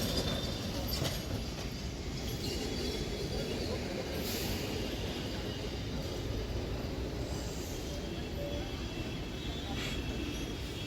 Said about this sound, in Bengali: 25 নাম্বার ট্রাম বেরিয়ে গেল।